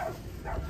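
A dog in or near a loaded van gives short, low barks and whines over steady background noise, agitated and close by.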